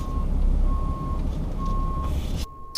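A truck reversing alarm beeping while backing up a fifth wheel trailer with a 2019 RAM 3500 Laramie Sport: four evenly spaced, steady high beeps over rumbling engine and road noise, ending with a sudden drop in background.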